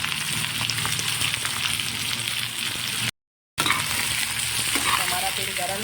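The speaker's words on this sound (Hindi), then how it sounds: "प्याज है वो हम अपनी कढ़ाई में डाल लेते हैं और इन्हें भी हम तेल में अच्छी तरीके से भून लेते हैं" Onions frying in hot oil in a kadhai while cooking bitter gourd sabzi, a steady dense sizzle running throughout at close range, with one brief dropout midway.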